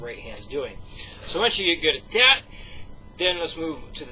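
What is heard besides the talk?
No distinct noise like a dog, phone or traffic.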